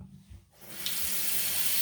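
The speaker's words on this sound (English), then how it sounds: "all you can do is hear the water, but you want to have clean hands" Tap water runs steadily into a sink for hand washing, starting after a brief quiet moment and continuing as a loud, even rush close to the microphone.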